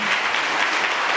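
A church congregation keeps clapping for a deaconess, a brief, loud, unbroken burst of applause from many people.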